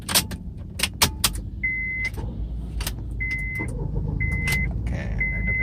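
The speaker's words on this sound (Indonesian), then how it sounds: "ngidupin mobil." Car keys jangle and several short electronic beeps sound, then a car engine starts and settles into a low, steady idle rumble.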